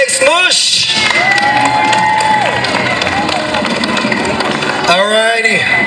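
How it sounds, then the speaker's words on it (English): A loud crowd at a Hmong New Generation ball tournament cheers and whoops for the second-place team, with children shouting and a few claps mixed into the continuous roar. "Let's get a round of applause for our second place, Smoosh!"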